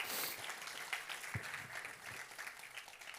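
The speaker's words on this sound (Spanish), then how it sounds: "Dele ese fuerte aplauso si usted lo sabe." Faint, distant applause from a church congregation, a thin and even wash of clapping that holds steady throughout.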